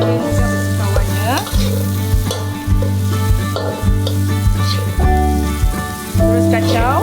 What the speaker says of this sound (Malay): Udang tidak perlu terlalu lama di dalam kuali, dia mudah bertukar warna.